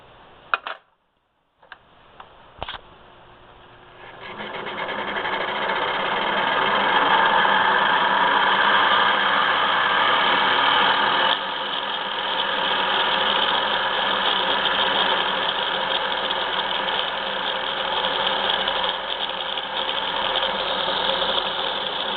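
A 1934 Singer 99 sewing machine winds a bobbin, with a steady, loud mechanical whir and hum that starts after a few clicks and runs on evenly, with no talking.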